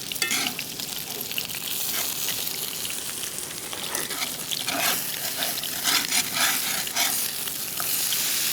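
Whole garlic cloves and lamb sizzle and fry steadily in a hot pan, a dense continuous crackle with occasional stirring scrapes, close and fairly loud with no talk.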